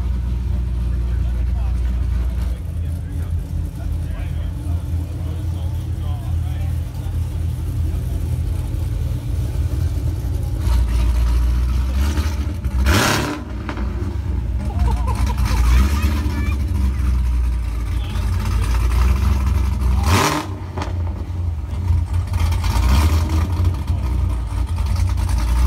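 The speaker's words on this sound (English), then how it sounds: "We got Jags coming in" Jaguar cars pull in at a Cars & Coffee meet, engines rumbling low and steady, with two louder revving bursts standing out and people talking over the engine noise.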